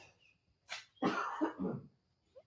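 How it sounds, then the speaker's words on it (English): A person gives a short dry cough: a small breathy hack followed by a harsher two-part cough, close and fairly quiet in a still room. "I got a cough for you."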